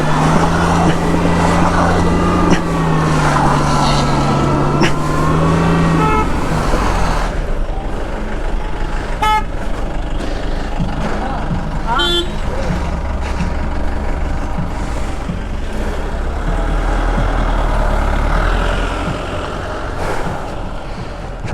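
A stuck Maruti Omni van revs hard with its tyres spinning and slipping in monsoon mud, a loud sustained engine roar throughout, with brief voices over it early on.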